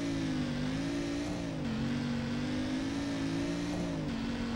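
A 1969 Ford Mustang engine drones in Ford Mustang: The Legend Lives, holding a steady, loud revving tone with slight pitch dips and rises throughout, no talking over it.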